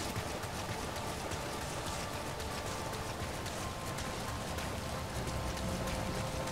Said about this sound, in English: Oh, it's supposed to be raining.